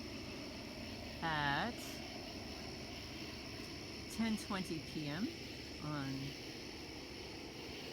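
A helicopter passes overhead at night, heard as a faint, steady droning rumble that continues throughout under a few short bursts of someone speaking.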